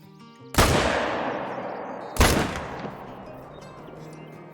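Two loud rifle shots in Call of the Wild while hunting a deer buck, sharp cracks about a second and a half apart, each trailing off in a long rolling echo across open ground.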